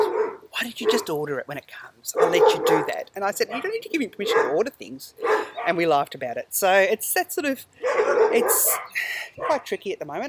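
Dogs bark in short, intermittent outbursts beneath continuous close-up talking indoors.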